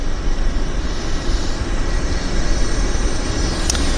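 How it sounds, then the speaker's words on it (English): An airliner's auxiliary power unit runs at Vancouver Airport, giving a steady broadband jet-turbine roar with a constant hiss and no break, heard on its own. "It's the APU on the Airliner."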